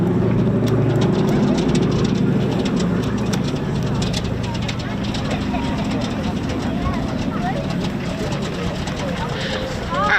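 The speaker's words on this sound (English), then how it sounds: "B-17G, Flying Fortress, Sally B, captained today by Andrew Dixon, with his co-pilot, Paul Schluer." Boeing B-17G Flying Fortress Sally B at an airshow, its piston engines droning steadily as a loud, continuous rumble under a public-address announcer's voice.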